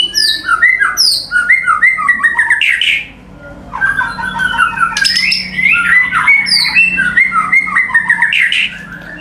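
A white-rumped shama sings loudly and close by, with rapid bright whistles and squawky phrases, a brief pause, then another long energetic burst.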